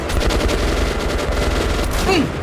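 Gunfire in the video game Metro Last Light Redux: a loud, continuous burst of rapid shots that fills the whole moment, with a brief tonal sweep near the end.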